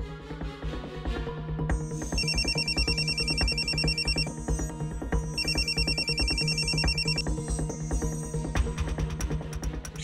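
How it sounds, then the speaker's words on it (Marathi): A phone rings in a Marathi TV drama scene, two bursts of a repeating electronic ringtone trill over a busy music bed, loud and close. "पिकअप फोन का नाही उचलत आहेस?"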